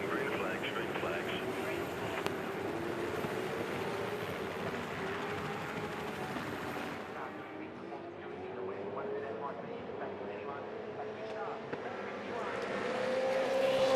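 Supercars V8 race cars at the 2011 Adelaide 500 street race roar steadily on a restart after a safety car period, a dense loud engine drone of several cars building toward the end, with commentary running over it.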